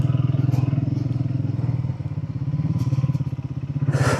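Triumph Speed 400 motorcycles riding past on a route near the Pargi windmills outside Hyderabad, a close steady pulsing engine drone with throttle swells and a brief wind gust at the end.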